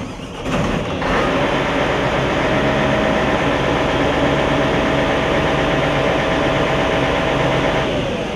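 A Claas Jaguar forage harvester engine drones loudly and steadily throughout, a constant heavy rumble with a whining upper hum.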